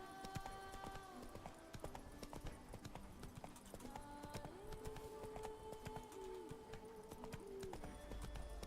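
Roach the horse trots and runs in The Witcher 3, steady hoof clip-clop in close rhythmic beats with a faint whinny, set against a continuous game music and ambience bed.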